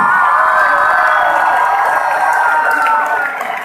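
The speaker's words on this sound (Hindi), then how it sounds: "एक दफा भरपूर तालियां अली ज़रीऊन के लिए" An audience at a Sufi mushaira in Faisalabad applauds poet Ali Zaryoun, a loud, dense, sustained wash of clapping and cheering with shouts in the crowd that tapers slightly at the end.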